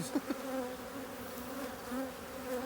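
Honeybees hum steadily inside a completely full hive during an inspection, a close, continuous buzz with a few brief louder wing passes near the start and no talking.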